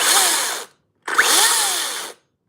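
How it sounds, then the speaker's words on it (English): Small Makita chainsaw buzzes loudly at high pitch in two bursts, running about half a second, cutting out briefly, then running again for about a second before stopping. "Little Makita chainsaw."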